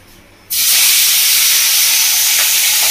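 Boal fish slid into hot oil for a curry sets off a sudden loud hiss, then a strong, steady sizzle that keeps going without a break.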